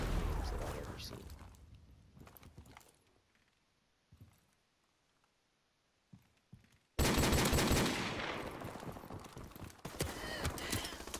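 Gunfire in a Call of Duty: Modern Warfare Remastered free-for-all match, scattered shots early, a quiet stretch, then a loud sudden burst of rapid firing that continues to the end, with a player talking over it.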